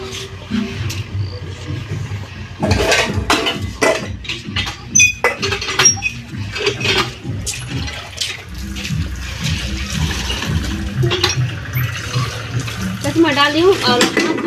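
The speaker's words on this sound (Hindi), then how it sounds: "मैं बर्तन में पानी तब तक मैं डाल देती हूँ।" Tap water runs steadily into a cooking pot in an Indian village kitchen, a continuous splashing rush lasting most of the stretch, with someone talking over it nearby.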